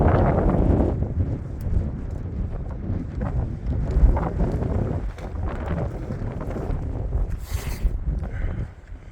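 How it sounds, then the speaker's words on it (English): Strong gusts of wind buffet the microphone on the exposed summit of Rocky Top in the Great Smoky Mountains, gusting around 30 mph, a loud, continuous low rumble that surges and eases over the whole stretch. "We got about 30 mile an hour wind gusts."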